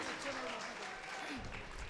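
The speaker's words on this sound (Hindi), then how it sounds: "आप इस बच्चे का हौसला बढ़ाने के लिए पुरजोर तालियों में इस्तकबाल करें" An audience at an all-India mushaira applauds to welcome a young poet, sustained clapping heard under a voice that carries on speaking over it.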